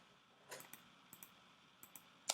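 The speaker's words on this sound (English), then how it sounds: "simply by clicking down and looking through the various options" A computer mouse clicking while options are browsed, a handful of quiet, sharp clicks in small pairs spread across a few seconds against a faint room hiss.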